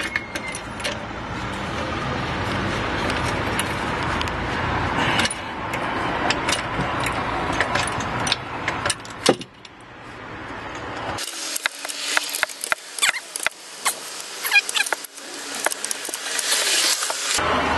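A jack being cranked under a Peugeot 207 to lift it for rear brake disc work, a run of repeated mechanical clicks and metallic ratcheting scrapes heard close, with no talking.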